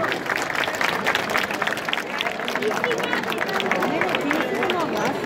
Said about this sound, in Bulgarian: Аплодисменти за Огняна Хризантема